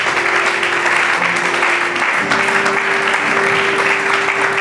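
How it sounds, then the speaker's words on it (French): Loud, sustained applause from a standing audience at a church conference in Kinshasa, dense clapping filling the room throughout, with a steady musical tone sustained beneath it. "Applaudissez très fort pour nous."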